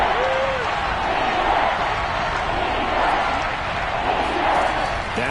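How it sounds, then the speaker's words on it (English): A football stadium crowd before an early third-and-ten keeps up a broad, steady roar of cheering and noise, heard at a distance. "Crowd getting in it a bit already."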